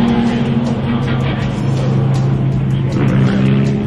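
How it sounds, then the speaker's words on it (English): Nissan S13 drift car at a Formula Drift round in West Palm Beach, a loud close engine roar with steady droning tones that rise slightly near the end as the car pulls away. "sending the car down the pipe"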